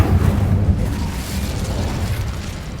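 Incendio fire spell from Hogwarts Legacy erupting in a loud, booming blast that rolls into a dense, sustained rumble, with no talking.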